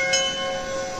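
Temple bells at Muktinath in Nepal, a clear metallic ring with sustained tones that hang and slowly fade after a light strike, fairly close and steady.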